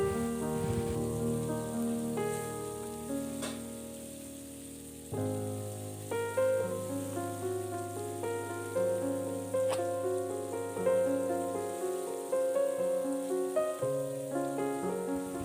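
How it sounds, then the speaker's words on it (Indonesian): Chopped tomatoes stir-fry with spice paste in a pan, a steady hiss and crackle of sizzling running under prominent melodic background music throughout. "selanjutnya saya masukkan tomat yang sudah dipotong-potong tadi. Aduk hingga merata sampai tomatnya layu."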